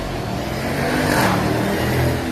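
The Hellcat engine of a Jeep Trackhawk revs in a steady, loud, close roar that swells slightly toward the middle, with no talk over it.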